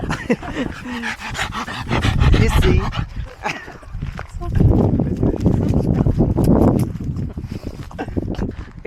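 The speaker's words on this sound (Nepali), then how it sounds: "हेर न कति क्युट डग रहेछ।" A puppy pants rapidly and close by in a park, with rustling, footsteps and scattered voices in the background.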